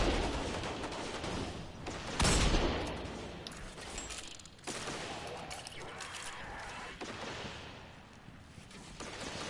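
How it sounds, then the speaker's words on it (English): Enemy gunfire in Destiny 2 rattles in bursts across a dense mix of game effects, with one sharp, louder blast partway through and a player talking over it. "Is there, like, a guy back here shooting at me?"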